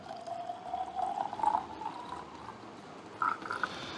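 Homemade raisin wine poured into small bottles, roughly 250 ml each: a close, steady liquid trickle that swells and gurgles, with a short bubbling burst near the end.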